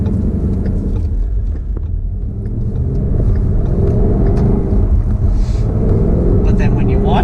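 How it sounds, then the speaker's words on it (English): A supercharged car engine rumbles steadily at close range, with a rising supercharger whine building toward the end; people talk over the engine noise. "when you want to, you hear the supercharger"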